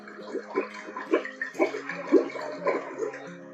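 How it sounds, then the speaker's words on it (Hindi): Air blown through a straw into a glass of water, done as a breathing exercise, makes a run of bubbling, gurgling pulses in uneven bursts, close and moderately loud. "एक वाटर बॉटल, एक ग्लास में पानी भर के ये स्ट्रॉ के जरिए स्ट्रॉ को नीचे स्ट्रॉ में हवा भरना है।"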